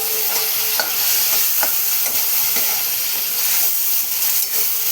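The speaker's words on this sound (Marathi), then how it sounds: "हळदीच्या नंतर बघा मस्त वाटाणा टाकून घातला." Green peas fry in a pan with turmeric, producing a bright, steady hiss of sizzling oil close by, broken by rhythmic spatula scrapes roughly every second as they are stirred, with no voices.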